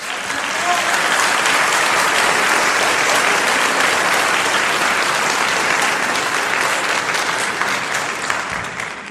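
Sustained, loud audience applause at a 1971 concert at the Olympia in Paris, a dense even wash of clapping from a large crowd that tapers slightly at the end.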